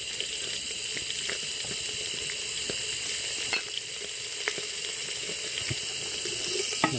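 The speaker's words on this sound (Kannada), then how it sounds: "ಈಗ ಎಣ್ಣೆ ಕಾದ್ಮೇಲೆ ಅದಕ್ಕೆ ಸಾಸಿವೆ ಹಾಕ್ಬೇಕು" Mustard seeds and curry leaves sizzle in hot oil for tempering, a steady close hiss speckled with sharp pops and crackles, continuous and fairly loud, with no voices.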